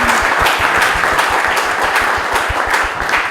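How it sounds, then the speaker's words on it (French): An audience applauds loudly and continuously at close range, the dense clapping carried over a rhythmic low thumping beat. "merci de l'applaudir en tout cas"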